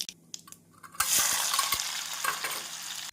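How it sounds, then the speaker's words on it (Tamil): Chopped onion drops into hot oil with mustard and cumin seeds and a loud sizzle erupts, crackling steadily with a few stirring scrapes and clinks underneath. "நாம் நறுக்கிய வெங்காயத்தை சேர்த்து விடலாம்"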